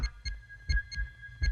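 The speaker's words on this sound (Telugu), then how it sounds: "నిమిషానికి రెండు వందల సార్లు కొట్టుకుంటుంది గుండె" Quick, muffled thumping heartbeats pulse in a steady fast rhythm of about 200 beats per minute, deep and close, with a faint tonal hum underneath.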